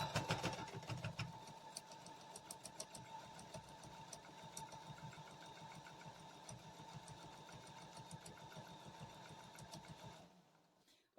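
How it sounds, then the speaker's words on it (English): Sewing machine attaching binding to a quilt, a steady rhythmic motor whir with a rapid needle tapping, running continuously at moderate level before slowing and falling quiet near the end. "put that back onto the sewing machine"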